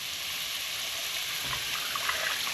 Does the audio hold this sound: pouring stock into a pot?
yes